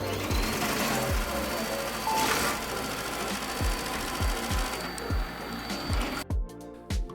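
A Shark AI VacMop RV2001WD robot vacuum whirs and hums on its base as it loads up, with regular low mechanical thumps pulsing through a steady motor drone that ends in a few quieter clicks.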